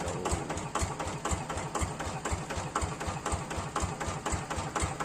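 A new plough machine's engine runs close by with a fast, steady chugging pulse and a mechanical clatter on top, holding an even loudness throughout with no voices.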